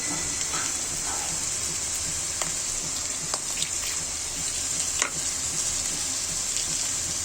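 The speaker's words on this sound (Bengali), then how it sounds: "মশলাটা কষিয়ে নিব ভালো করে" Spice paste fries in the oil left from frying rui fish for a curry, giving a steady, dense sizzle throughout with occasional faint pops and spatters close by.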